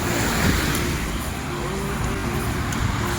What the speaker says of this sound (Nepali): यहाँ चाहिँ खोला रहेछ है